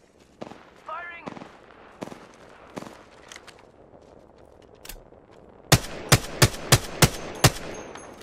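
Rapid string of loud gunshots from the Apex Legends video game, six or so sharp evenly spaced cracks near the end, following game voice lines and scattered effects.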